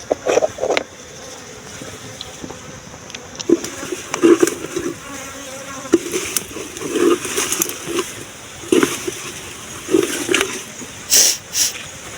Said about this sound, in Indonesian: tadi kita bersihkan di dalam kotak lebah madu ini ya teman-teman